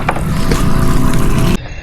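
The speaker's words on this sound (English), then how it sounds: "Turn the bubbles on for you guys." A rechargeable aerator runs in a bait bucket with a loud, steady buzzing hum and bubbling, then cuts off abruptly just before the end.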